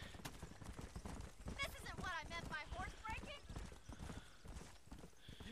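Horse hooves clip-clop steadily in Red Dead Redemption, several horses moving close by with a brief whinny, while voices talk over the rhythmic clatter throughout.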